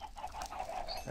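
Minecraft chickens clucking in a short, steady burst of soft, close clucks that continue without a break, with no voices over them.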